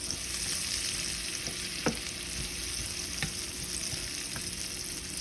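Garlic frying in a pan on a home kitchen stove, a steady close sizzle with a few light clicks of stirring, no talking over it.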